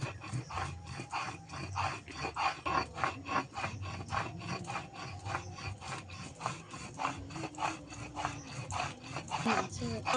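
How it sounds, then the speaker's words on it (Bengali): Whole garam masala spices and 8-10 peppercorns are ground into a fine paste, heard as close, steady rhythmic rubbing and scraping strokes in quick repeated passes. "গরম মশলাটা আমি একদম মিহি করে বেটে নেব"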